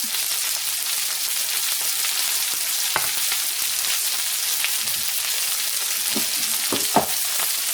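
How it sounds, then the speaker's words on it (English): Chicken breasts sizzle loudly in a hot pan, a constant crackling hiss with occasional sharper pops and a faint scrape. "I'm going to put in there and start frying."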